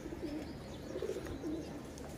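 A female Taddy pigeon coos softly a few times in low, rolling murmurs, close by, against a faint background hum.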